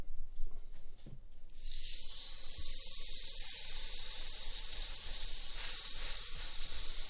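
Burgers sizzle on a hot griddle in a continuous bright, hissing crackle that swells after the first moment and holds steady, close and fairly loud with occasional pops.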